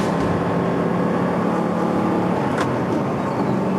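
Audi R8 with a 4.2 litre V8 heard from inside the cabin, a steady, dense engine drone and road roar held at speed, fairly loud and unbroken, no talking.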